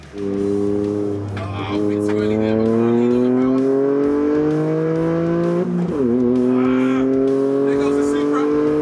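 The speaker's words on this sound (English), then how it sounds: "All 4 cars got away cleanly, with the 86 leading the pack up towards the first potential pinch point, the tight right-hand hairpin" Toyota GR86, GT86, Yaris and Supra cars race on a track, engines revving loud and near with rising pitch through the gears and a sharp shift drop, while a voice talks over them.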